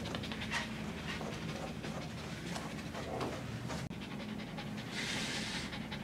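A dog pants steadily and rapidly, close by, during a brush-out grooming session, with a brief rustle of the brush toward the end.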